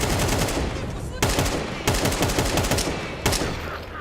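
Rapid automatic gunfire from Counter-Strike on the Inferno map during a professional match, with dense continuous bursts and a few sharper shot onsets standing out, loud and close throughout.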